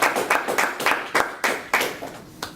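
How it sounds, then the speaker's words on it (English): A small audience at an engineering talk gives a short round of clapping, a handful of distinct, close claps in an uneven rhythm over about two and a half seconds. "So let's give a nice big applause."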